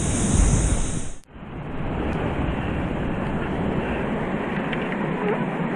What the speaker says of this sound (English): a lot of water flowing in that one spot